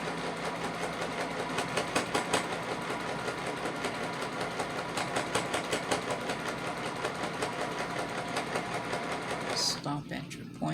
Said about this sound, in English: Lower my presser foot down, lower my needle, and create that 1/4 inch.